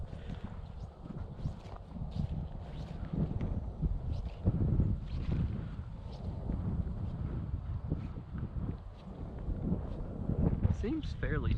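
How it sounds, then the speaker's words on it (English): Steady wind gusting across open lake ice during an ice-fishing outing, buffeting the microphone in a continuous rough roar that swells and eases over several seconds. "Windy. Dang it. I did not want it to be windy."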